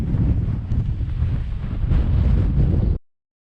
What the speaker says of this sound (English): The wind started again.